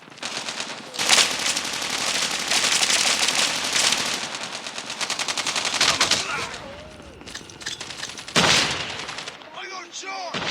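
Rapid assault rifle fire rattles through a Call of Duty-style shooter match in dense, sustained bursts mixed with explosions and game effects, with voices speaking over the action.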